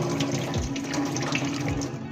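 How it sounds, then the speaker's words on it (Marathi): Sabudana (sago pearls) washed in water, with close sloshing and running-water sounds and a couple of soft swishes as the grains are stirred and rinsed. "सर्वप्रथम पहिल्यांदा स्वच्छ धुवून घ्यावा खाली आणि पहिले पाणी त्याचे पूर्ण काढून टाकावे"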